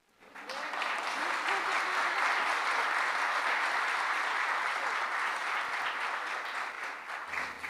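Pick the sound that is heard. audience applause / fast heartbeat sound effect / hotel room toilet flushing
audience applause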